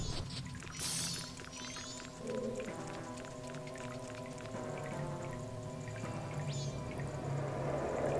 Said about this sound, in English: There's spring water here.